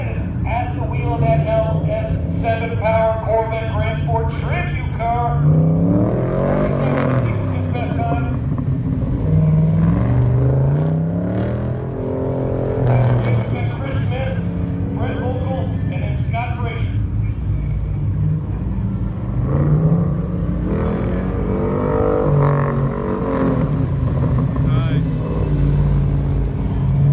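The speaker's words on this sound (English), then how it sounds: "Dan Gagnon is at the wheel of that LS7 power Corvette Grand Sport tribute car." An LS7-powered Corvette Grand Sport tribute car roars through a Good-Guys Scottsdale shootout run, its loud, steady engine rumble rising and falling with revs under continuous announcer commentary.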